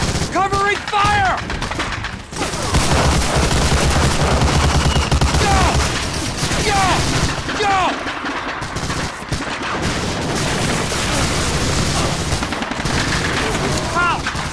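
Dense battlefield gunfire and explosions from the WWII shooter Medal of Honor: Allied Assault, a loud continuous barrage with bursts of rifle and machine-gun fire under shouted voices.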